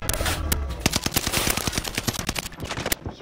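Sustained machine gun fire in a video game squad firefight, loud, dense rapid bursts of shots rattling close for about three seconds with no talk over them.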